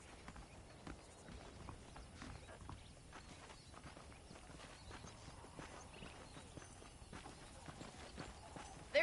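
Horse hooves clip-clopping at a steady walking pace in the video game Red Dead Redemption, a continuous rhythmic clatter at moderate distance with faint ambient background.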